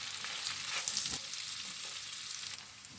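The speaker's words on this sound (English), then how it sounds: "Then stir." Sausage fries in a pan while being stirred, a soft steady sizzle with a few faint utensil scrapes and taps, fairly quiet and without talk.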